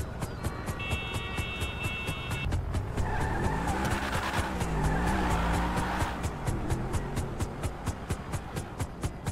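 A car in GTA 5 drives and skids, its tires squealing in a long smear through the middle, over a steady engine hum and a regular ticking beat that runs throughout, with no talking.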